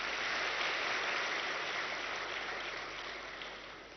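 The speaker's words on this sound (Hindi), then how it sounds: "फिर तो इस खुशी में ताली बजानी चाहिए" A large audience at a spiritual discourse gathering claps together in a dense, continuous wash of applause that holds strong and then slowly fades toward the end.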